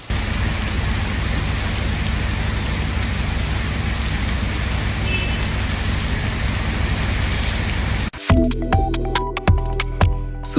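Heavy rain from Cyclone Montha pours in a dense, steady roar for about eight seconds, then cuts abruptly to a short stretch of sharp clicking and tapping sounds.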